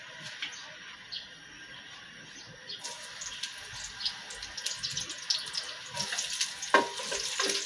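Garlic frying in a pan, with a soft sizzle that grows busier and louder partway through, mixed with occasional stirring scrapes and clinks.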